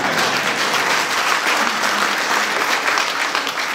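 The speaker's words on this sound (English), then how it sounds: "you can have a clap for that" At a People's Vote rally in Cambridge, an audience breaks into loud, sustained applause, a dense close wash of clapping with slight swells and no talk over it.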